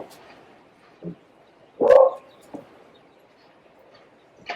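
A dog barks indoors: one loud bark in the middle, with a few softer yips and muffled sounds before and after in an otherwise quiet room.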